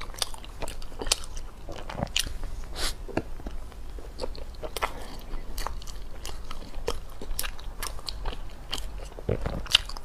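Close, crisp bites and chewing of a sakura matcha snow-skin mochi, with irregular crunchy, sticky mouth sounds repeating throughout and no talking.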